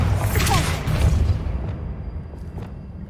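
The Bombarda blasting spell in Hogwarts Legacy erupts as a loud, close boom with a rumbling low roar that swells, then fades over a couple of seconds into a quieter tail with faint clinks.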